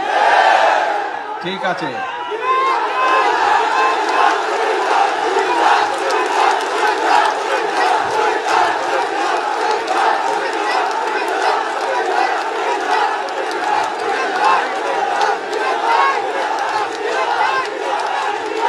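A large political rally crowd in Comilla, Bangladesh, shouting and chanting slogans for a Comilla division. A loud, continuous roar of many voices carries throughout, with a brief louder burst near the start.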